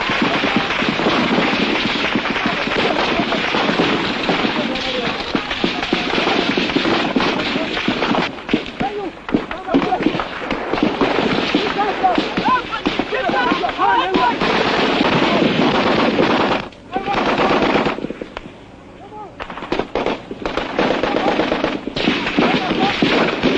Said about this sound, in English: the Biafran troops fire blindly at enemy positions they can scarcely see